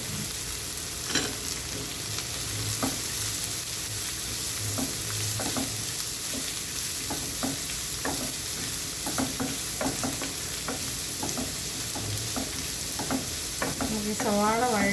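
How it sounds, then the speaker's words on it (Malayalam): Chopped onions sautéing with cumin and cardamom in a pan: a steady sizzle and frying hiss with a utensil stirring and scraping at intervals, close and continuous, no talking. "ഇതിലേക്ക് നമുക്ക് ഒരു മീഡിയം സൈസിൽ 2 സവാള ചെറുതായിട്ട് അരിഞ്ഞതും ഇട്ട് നമുക്ക് വഴറ്റി കൊടുക്കാം."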